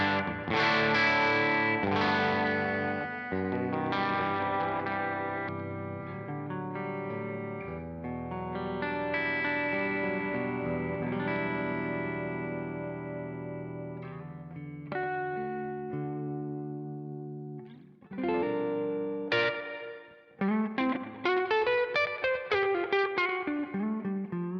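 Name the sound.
Eastman electric guitar, Seymour Duncan pickups, clean channel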